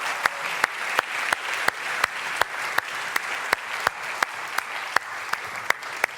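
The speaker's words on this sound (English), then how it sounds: "Why don't we just give them a big round of applause as they come up here?" A church audience applauds steadily, a dense wash of many hands clapping with a few sharp, louder claps cutting through at regular intervals, with no voices over it.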